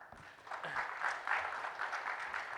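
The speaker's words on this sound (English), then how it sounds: "A round of applause, Thank you, please." Applause from the audience at a corporate panel discussion on omnichannel customer strategy, a steady moderate patter of many hands lasting a few seconds with some background murmur.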